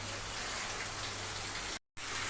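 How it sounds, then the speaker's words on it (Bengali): Steady rain falls in a dense, even hiss close by, continuous apart from a brief cut near the end. "দেখেন বৃষ্টি বৃষ্টি বৃষ্টি"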